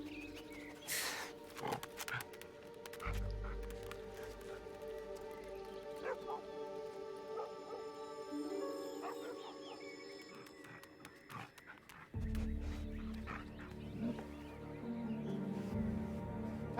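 A dog barking and whimpering in the video game Assassin's Creed Odyssey, short yips and whines scattered over sustained in-game music and ambience, at moderate loudness.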